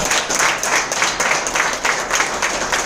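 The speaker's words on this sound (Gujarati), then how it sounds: "તો સર માટે ફરીથી એક જોરદાર તાળી છે." A seated audience at a business seminar gives a hearty round of applause, with near, continuous clapping that pulses in a loose, even rhythm throughout.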